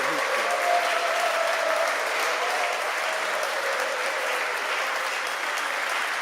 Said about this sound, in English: let us all give a round of applause to your senior minister